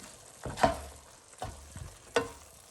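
Baingan bharta with frozen peas being stirred in a pan, a spoon scraping in three distinct strokes over a soft, steady sizzle, close and fairly quiet.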